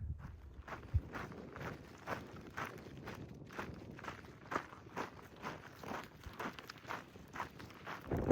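Footsteps crunch over a rocky high mountain trail on a long-distance hike, a steady walking rhythm of close, moderately loud steps on loose stone, with wind in the background.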